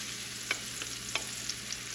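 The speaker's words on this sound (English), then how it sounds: "you are going to add or fry up your shrimp" Shrimp frying in grease for shrimp and cheesy grits, giving a brief, even hiss of sizzling with a few light clicks of stirring.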